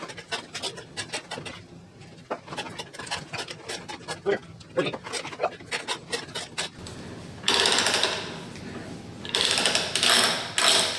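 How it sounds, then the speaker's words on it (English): Metal pipe end is threaded for a steampunk stool, with repeated ratcheting clicks and scraping strokes close by, followed by louder sustained grinding bursts of the threading work near the end. "here's the last one I have to thread."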